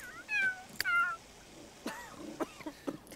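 Cats in The Sims 3 give several short meows in quick succession, clear and close, with brief pauses between calls and no talking.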